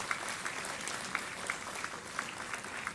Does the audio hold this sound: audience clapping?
yes